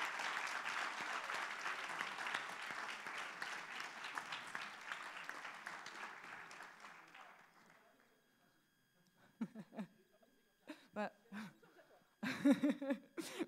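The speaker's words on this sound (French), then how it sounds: "Sous vos applaudissements, bien sûr." An audience at a university thesis-presentation final in Paris applauds with dense, sustained clapping that fades out after about eight seconds, followed by a few close voices talking.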